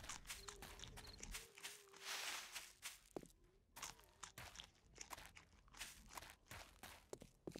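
Zombie horde footsteps in 7 Days to Die on an insane, always-run setting: a scattered, uneven run of crunching steps at moderate loudness, with no talk over them.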